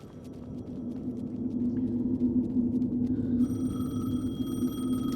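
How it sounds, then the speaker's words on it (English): A telephone in Alan Wake 2 starts ringing partway through with a thin, steady electronic tone over a low rumbling game ambience and hum. "I'm glad she can hear the phone."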